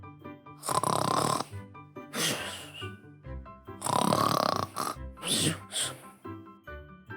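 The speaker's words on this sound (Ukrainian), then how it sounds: "Тільки з барлогу доносилося гучне хропіння." A bear in its den snores loudly, with long, rumbling, pig-like snores repeating about every second or two in an exaggerated, cartoonish way, close and alone.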